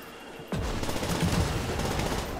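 Rapid gunfire in the Call of Duty World at War Zombies game, Shi No Numa map, starts abruptly and continues as a loud, dense burst of shots.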